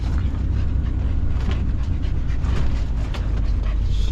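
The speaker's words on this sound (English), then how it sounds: "You can always tell when we're near our destination. The panting always increases." A small dog pants steadily and rhythmically inside a moving vehicle on a camping trip in Florida, close to the microphone over a constant low road rumble.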